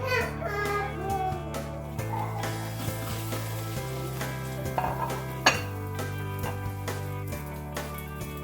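Food is stirred in a kitchen pot, with a spoon scraping and clinking against the metal under a steady hum, and a single louder knock partway through.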